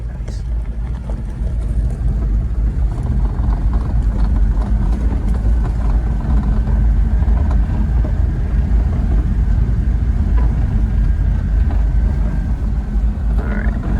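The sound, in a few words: clown truck engine while driving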